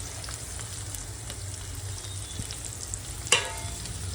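Chopped onion frying in oil with garlic and chilli, a steady low sizzle with light stirring and one clear utensil clink near the end, no voices.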